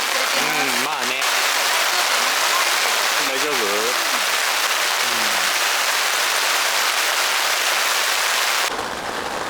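Heavy rain hammers steadily and loudly on a car-side lodge tent during car camping, a dense continuous wash that cuts off abruptly at the end, while people's voices talk briefly over it.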